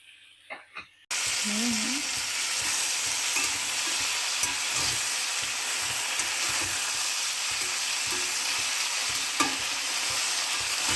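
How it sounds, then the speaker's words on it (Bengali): A few soft taps, then a sudden loud, continuous sizzle erupts as fried eggplant goes into a pan of frying flat beans, with occasional scrapes and clicks of stirring over the steady hiss. "এবার এই শিমের মধ্যে ভেজে রাখা বেগুনগুলো দিয়ে দিলাম।"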